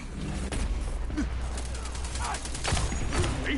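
Hand cannon fire rings out in an online shooter match as a rapid run of crisp, punchy shots and bursts over a busy background of game effects, with a voice talking underneath.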